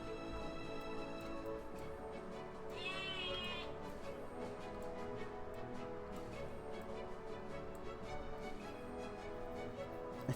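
Sheep bleating in a cozy farming video game, a short wavering bleat that rises briefly over a steady bed of game music and ambient ticking, fairly quiet in the mix.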